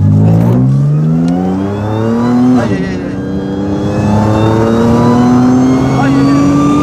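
A supercharged V6 car engine revs hard and close, its pitch climbing steadily, dipping briefly, then rising again in a loud whining sweep that fills the whole stretch.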